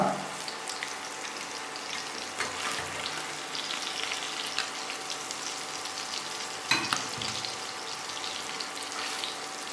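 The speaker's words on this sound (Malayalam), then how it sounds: "അപ്പോൾ നമ്മുടെ മീൻ നല്ലോണം 2 സൈഡ് മൂത്ത് വന്നിട്ടുണ്ട്." Fish frying in hot oil makes a steady, close hiss and crackle throughout, with a couple of brief knocks and bumps from the pan.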